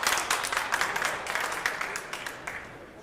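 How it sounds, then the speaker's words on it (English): Audience applause at a pool tournament semi-final, a steady wash of clapping with scattered sharper claps, moderately loud and gradually thinning. "That applause was the fact that they just took a picture of Tim"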